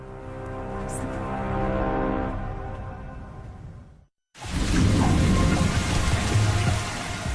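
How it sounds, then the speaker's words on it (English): Heavy rain pours steadily over a small airport in Dubrovnik, Croatia, a loud dense hiss that cuts out briefly to near silence, then returns even stronger with a low thunderous rumble beneath. "A heavy rain soaks a small airport in Dubrovnik, Croatia."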